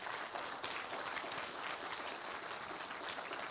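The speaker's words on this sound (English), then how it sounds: "Give them a round of applause." Steady applause from an audience honoring Ella Dickey Literacy Award recipients, dense continuous clapping filling the whole stretch at an even level with no voices over it.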